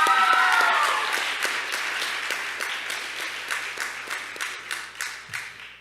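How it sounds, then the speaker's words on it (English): An audience at a school award chapel breaks into applause, dense clapping at first that slowly thins and fades over several seconds, with a few louder individual claps near the end. "Give them another round of applause."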